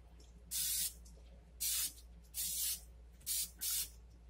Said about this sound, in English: I got some canola cooking spray